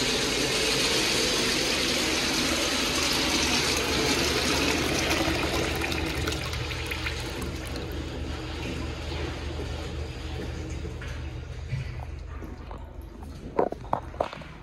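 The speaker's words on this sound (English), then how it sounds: "I'm just gonna flush both at once." Two toilets in a men's restroom flush at once, giving a loud rushing gush of water that gradually fades into a trickle and refill, with a few sharp clacks near the end.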